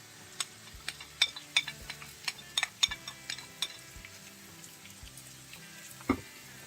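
A steady sizzle of chopped olives and pickled cucumbers frying in a pan for homemade solyanka, punctuated by scattered clinks and scraping taps of a utensil stirring, with no talking.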